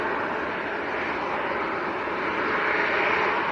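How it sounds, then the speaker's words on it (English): Aer Lingus airliner taking off at Manchester Airport, a loud, steady jet engine roar that swells slightly toward the end, heard alone without talk. "Aer Lingus getting airborne"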